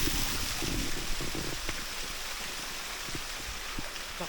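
River water flowing beneath a rocky bank, a steady broadband rush and gurgle filling the scene, close and continuous with no voices.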